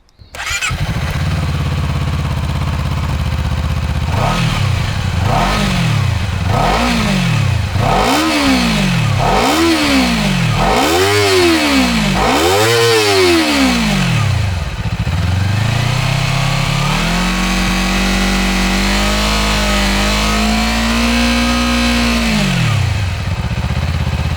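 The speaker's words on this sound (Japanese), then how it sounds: "はい、それではエンジンをかけてみましょう。" A 2023 Honda CBR250RR motorcycle engine starts and is revved in a series of about seven sharp, rising bursts. It then holds a sustained higher rev before dropping back, loud and close.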